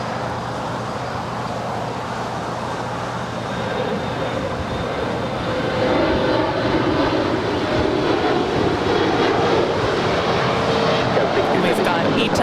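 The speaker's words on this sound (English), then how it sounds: "Delta A350 landing here on the south side." A Delta Airbus A350 landing on runway 25 right at LAX, heard as a broad, steady roar from the distance that swells gradually louder partway through, with faint voices underneath.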